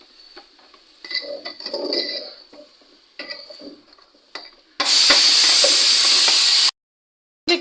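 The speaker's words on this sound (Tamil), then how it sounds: "கார மிளகாத்தூள் போட்டு நல்லா வதக்கிக்கலாம்" Chili powder being sautéed in a pan for sambar: quiet clinks and light sizzling, then a sudden loud, steady hissing sizzle that lasts about two seconds and cuts off abruptly.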